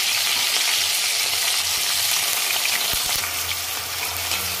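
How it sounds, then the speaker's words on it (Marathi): Potato pieces fry in hot oil over a high flame for a fasting thali, giving a steady, loud, hissing sizzle with faint crackles and an occasional light clink, continuous and unaccompanied by voices. "तर हे बटाटे छान आपल्याला तेलावर एकदम शिजवून घ्यायचे, थोडक्यात एवढे फ्राय करायचे आहेत की एकदम नरम झाले पाहिजेत।"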